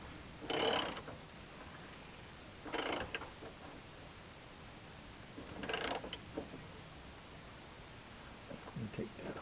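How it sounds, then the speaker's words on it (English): A rusty mechanism grinding away in three separate bursts, each a short harsh scraping rasp, fairly quiet and close, with quiet pauses between and a faint voice near the end. "hear a lot of that rust up in there, grinding away."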